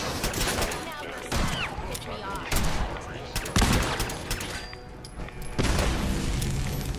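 Plasma grenades and railgun fire in Fallout 4 come as a chaotic volley: sharp loud bursts and booms at irregular intervals, mixed with rapid gunfire and a voice talking over the combat.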